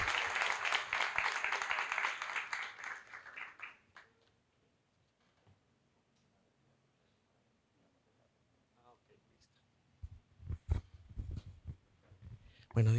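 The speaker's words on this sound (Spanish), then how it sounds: "¿Qué tal si le damos un aplauso de bienvenida a esta casa?" A church congregation applauds to welcome the preacher, dense clapping that fades out within a few seconds. Near-silence follows, then a voice begins speaking with some sharp taps and knocks.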